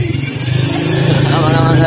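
Motorcycle engine idling nearby outdoors, a steady throbbing rumble with a faint rising whine, under a voice speaking.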